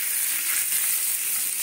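Potato pieces fry in hot oil with a loud, dense, even sizzle that hisses steadily and close up for a moment, with no voices.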